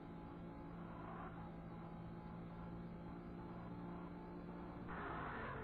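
Car engine from the 3DO racing game Need for Speed, a steady loud drone that picks up and rises near the end as the car accelerates, with no talking over it.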